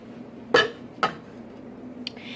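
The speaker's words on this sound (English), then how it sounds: "I'm going to put the lid on" A lid goes onto a Crock-Pot slow cooker as two close ceramic-and-glass clinks, then a lighter tap with a brief scrape, over a quiet kitchen background.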